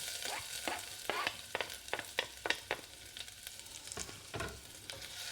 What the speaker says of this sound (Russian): Сначала обжариваем имбирь.